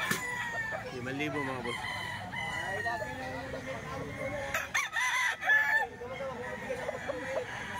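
A rooster, a nine-month Gilmore gamecock offered for sale, crows amid surrounding fowl clucking and calls, with someone talking over it throughout.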